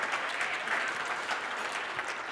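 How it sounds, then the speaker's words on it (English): A crowd applauds steadily at a TEDxYouth event, dense continuous clapping throughout, loud and even, with no voices over it. "Big round of applause"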